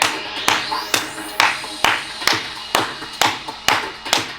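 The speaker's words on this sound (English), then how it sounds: "Give yourselves a massive clap" Participants in a festive dance fitness session clap along in a steady, evenly spaced beat, about ten loud claps roughly half a second apart, close and clear, with little else beneath them.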